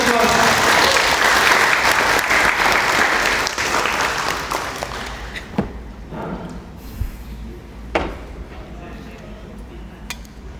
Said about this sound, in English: please join me in welcoming Professor Hasan Khairi. Give applause